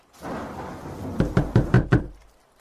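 Five sharp knocks on a door in quick succession, loud and near, after a brief low rumble.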